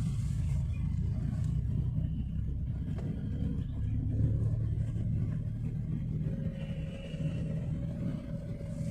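A Nissan Micra car drives up the road to Yercaud, heard from inside as a steady low engine and road rumble, constant and moderately loud across the whole stretch with no talk.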